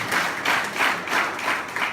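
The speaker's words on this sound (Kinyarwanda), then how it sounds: "amashyi menshi kuri C24/7" An audience applauds, with a dense crowd of hand claps swelling and easing in quick waves over about two seconds. The clapping is loud and steady, with no voices.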